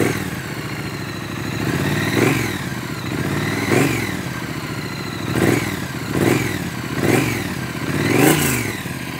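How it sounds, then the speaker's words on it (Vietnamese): A Triumph Speed Twin 900 motorcycle engine idles with a deep, steady rumble, then revs several times in short rising bursts, close and loud. "đây là âm thanh của xe Speedtrain 2020"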